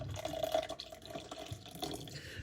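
Hot water poured for coffee, a steady liquid trickle with small drip-like splashes that runs close and fairly quiet for a couple of seconds.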